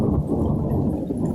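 Thunder during a thunderstorm with frequent lightning over Ormond Beach, Florida rolls as a loud, deep continuous rumble that fills the whole short stretch, with no talk.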